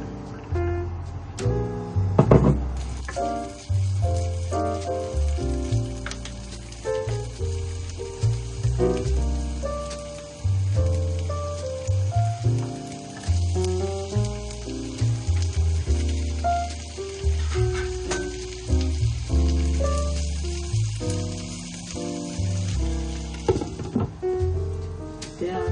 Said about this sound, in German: Ein bisschen Olivenöl zum Anbraten.